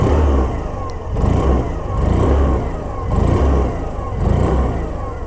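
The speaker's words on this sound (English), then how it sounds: "let's give a bit of a throttle so that you guys can hear the proper exhaust note" A Hero Destini 110 scooter's 110cc engine is revved repeatedly at a standstill, with several throttle blips rising and falling in a steady rhythm and a close, loud exhaust note with no talking.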